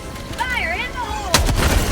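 In the Helldivers 2 shooter game, a voiced in-game call gives way to a sudden grenade blast, a sharp crackling boom near the end of the moment that rumbles briefly before settling.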